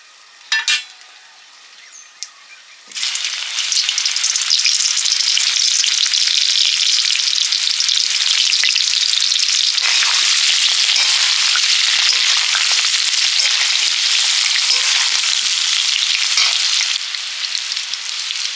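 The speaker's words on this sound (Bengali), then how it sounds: "এঁচড়টা ভেজে নেব শুকনো লঙ্কা" Young jackfruit pieces fry with dried red chillies in a hot pan, a loud, dense sizzle that starts abruptly after a few quiet seconds and holds steady with crackling spits, easing slightly near the end.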